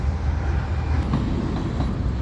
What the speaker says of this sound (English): Sorry for the train noise.